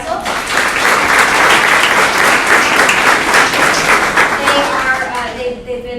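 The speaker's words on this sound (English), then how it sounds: "So let's give a round of applause to Crown Kastle." Audience applause at a panel discussion event, loud and close, many hands clapping in a thick sustained burst that tapers off toward the end, with a voice faintly emerging as it fades.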